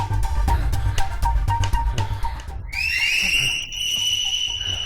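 A loud, sustained human whistle rises and holds a high, steady pitch for a couple of seconds, coming after a stretch of busy background clatter in a tense search scene.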